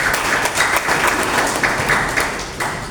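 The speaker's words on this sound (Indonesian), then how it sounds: "Berikan aplaus yang meriah." Loud, dense applause from an audience at a union assembly, a steady wash of many hands clapping that keeps going throughout.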